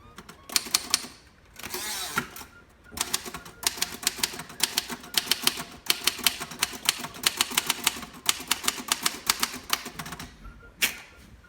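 Rapid mechanical keystrokes clatter in bursts from a 1936 Royal Model O manual typewriter, with brief pauses, the margin bell and a carriage sound between runs.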